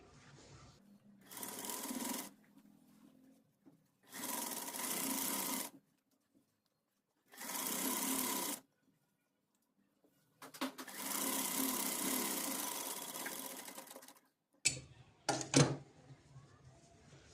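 A sewing machine stitching the button placket of a frock, running in four bursts of steady whirring separated by pauses, then a few short clicks and handling knocks.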